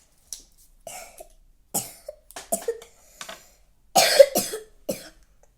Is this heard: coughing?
yes